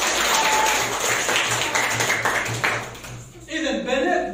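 Fourth-grade schoolchildren applaud during a religious quiz in a primary school classroom, a burst of close, lively clapping that fades out near the end as an adult begins speaking.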